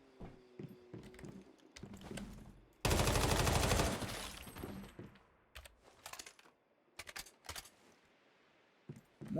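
Rapid burst of gunfire from a new gun in the video game Once Human, a dense loud roar lasting about a second mid-clip, framed by quieter scattered clicks and taps before and after.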